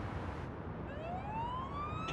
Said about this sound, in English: Now the siren is okay. It's not like the worst, but unfortunately it does not have different stages of sirens.